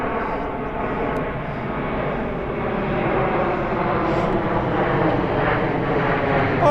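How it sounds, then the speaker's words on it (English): A very large airplane flies overhead, and the deep, continuous engine roar grows slightly louder over several seconds. "That is the biggest plane I've ever seen."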